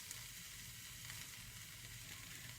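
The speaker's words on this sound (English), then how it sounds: "So I can hear the vegetables starting to sizzle." Vegetables sizzle steadily in a hot skillet, a soft continuous crackle and hiss with no talking.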